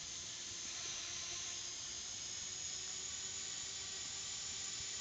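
Small FPV drone motors idle on the bench to drain the battery, giving a steady, unbroken high-pitched whine with a faint hiss underneath, quiet and constant throughout.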